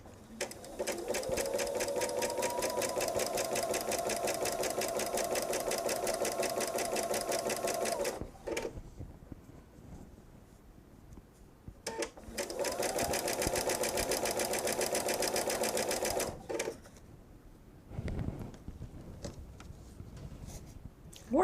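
Home sewing machine stitching fabric for a jelly roll quilt, running in two long steady whirring bursts of about eight and five seconds, loud and close, separated by pauses with faint handling sounds.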